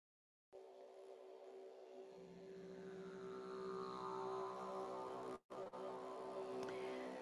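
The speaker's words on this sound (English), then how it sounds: "So I'm going to play this drone sound." A recorded meditation drone plays as a steady sustained hum with a strong constant tone and a slowly swelling, rising wash of overtones, loud and unbroken apart from one brief dropout.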